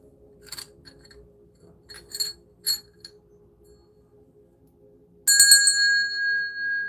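A bell rings once, loud and bright, and its tone rings on for over a second, after a few faint scattered ticks and clinks in near silence.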